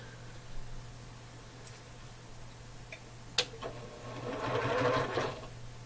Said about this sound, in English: then you're going to put them together and sew.